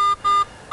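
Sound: Garrett metal detector signal beep

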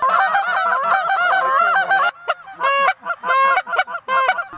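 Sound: geese honking and goose calls during a hunt

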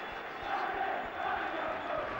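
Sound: football crowd reacting to a substitution

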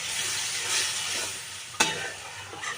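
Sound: water added to simmering beet and potato curry

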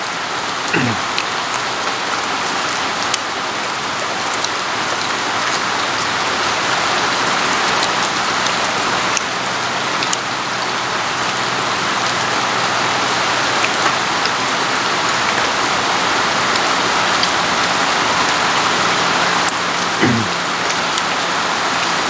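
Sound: rain falling

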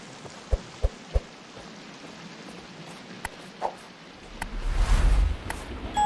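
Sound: thunder and storm in a video game

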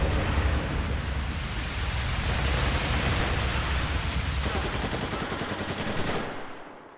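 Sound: gunfire in video game Spec Ops: The Line

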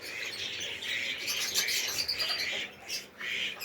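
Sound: farm birds: ducks, doves, small birds

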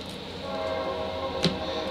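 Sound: train passing

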